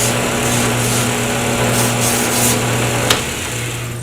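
A pen blank spinning on a wood lathe while abrasive paper sands it. The motor hum stays steady with a whirring hiss that barely changes, and near the end there is a brief sharp tick.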